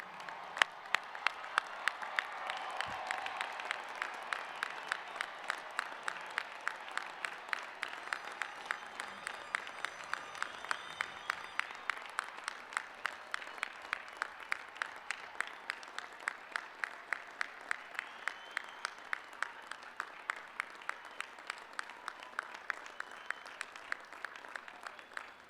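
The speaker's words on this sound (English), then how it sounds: "I want everyone in this stadium, except the graduates, to stand and join me in a resounding applause" A stadium crowd at a university commencement ceremony applauding the graduates, with sustained applause that stays steady and fairly distant for nearly half a minute and a few sharper claps standing out rhythmically near the front.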